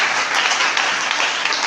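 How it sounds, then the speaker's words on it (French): A church congregation at a Sunday worship service applauds loudly and steadily, a dense wash of clapping that fills the whole moment without a break. "Acclame très fort pour Jésus."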